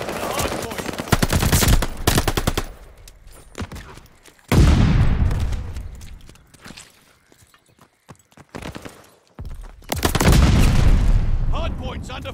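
Loud machine-gun fire at the hard point in Call of Duty: Vanguard comes in three heavy sustained bursts with quieter gaps between them, close and dominant.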